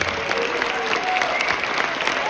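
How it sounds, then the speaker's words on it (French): Audience applause at a summer event gathering, steady dense clapping from a crowd sustained for a couple of seconds, fairly loud and close, with no speech over it. "Lynn, on peut applaudir."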